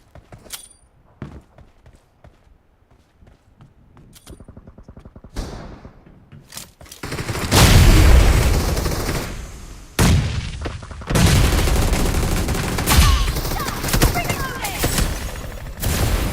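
Quiet clicks and faint bursts at first, then loud sustained gunfire and heavy booms from a PUBG Mobile esports match, with short pauses between volleys.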